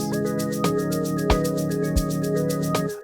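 Minisynth keys preset playing in FL Studio within an Amapiano beat, sustained chordal tones over a steady shuffling percussion pulse, with a couple of deep bass thumps underneath and no voices.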